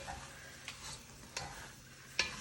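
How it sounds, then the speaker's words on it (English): Hungarian goulash being stirred in a pot, faint soft scraping with a few sharp spoon knocks against the pot rim, quiet and close with no voices. "stir that around a bit"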